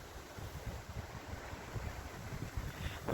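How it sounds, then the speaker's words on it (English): Wind blows across a small village churchyard at the 13th-century All Saints Church in Nailstone, a faint, low buffeting rumble that swells slightly toward the end. "Now it is a little bit windy, so if you're struggling to hear me, you'll have to forgive me."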